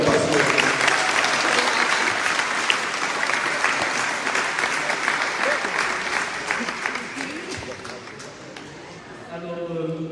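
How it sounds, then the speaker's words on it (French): A crowd applauds steadily and loudly for several seconds at a mayor's reception for a women's handball team in Le Robert, the clapping thinning out near the end as voices begin to come through. "Alors on l'applaudir comme le semblant de match."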